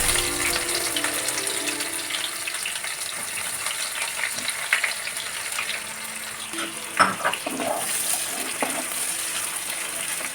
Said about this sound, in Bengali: এবার আমি দিয়ে দিচ্ছি কেটে রাখা পেঁয়াজগুলো।